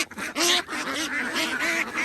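Young female ducks quack loudly and repeatedly at close range while being sorted for sale, several birds calling in quick overlapping bursts with no talk.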